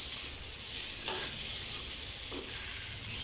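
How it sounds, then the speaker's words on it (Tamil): Chicken franks frying on a hot tawa give off a steady, close sizzle with faint crackles, and two soft stirring or turning scrapes come through partway. Nobody speaks. "தவாவில் போட்டு ஃப்ரை பண்ணிடலாம்"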